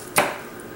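One crisp knife stroke slicing garlic thinly on a cutting board, a single close, sharp tap in an otherwise quiet kitchen.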